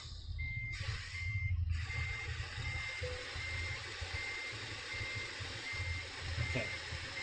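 A truck reverses with its hazard lights on in Euro Truck Simulator 2, a Scania R-series cab emitting a steady string of evenly spaced reversing beeps over a low idling engine rumble, with no talking.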